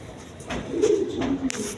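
Chuital Kaldam pigeons at a farm give a short, soft, low cooing murmur, close by, with faint background noise.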